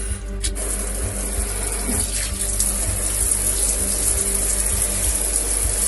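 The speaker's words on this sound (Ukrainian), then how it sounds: "Хочу показати, яка у нас вода зараз в крані." Tap water runs from a faucet in a home in Berdiansk, a steady continuous close stream with a faint rhythmic pulsing underneath, no talk.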